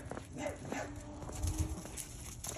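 Dogs outdoors near a chain link gate, with soft whimpers and faint yips scattered through steady background noise and no clear barking.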